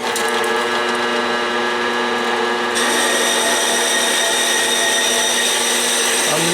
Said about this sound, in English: this one starts out at the bandsaw